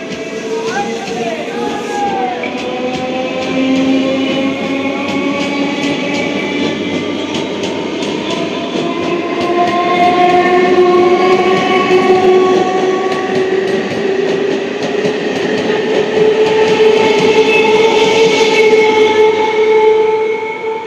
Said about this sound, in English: 31521 Sealdah Shantipur local 1 নম্বর প্ল্যাটফর্মে আসছে।